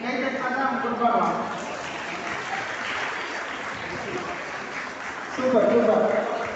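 Steady applause from an audience fills the whole stretch, with a voice speaking over the clapping at the start and end.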